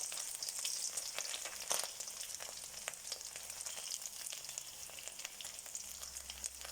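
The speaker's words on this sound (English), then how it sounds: "we're just crisping this bacon up nicely" Bacon crisping in a frying pan for Portuguese feijoada, a steady dense sizzle and crackle with scattered sharp pops, close and continuous with no talking.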